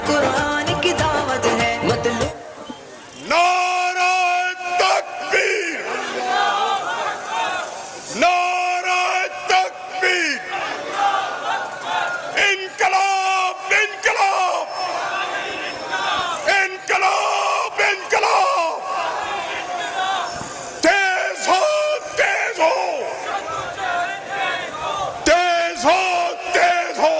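A political rally crowd at Qurtaba Chowk in Lahore answers a Takbir call with loud, repeated chanted slogans, rising in big unison bursts between shorter leader calls over a booming public-address system.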